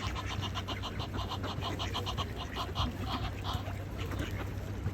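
A large flock of about a hundred and fifty ducks, including a white king duck, quacks in repeated overlapping calls over a low steady background hum.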